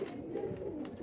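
Low, gentle pigeon cooing rolls on steadily through a short stretch, faint and close amid a constant background hum.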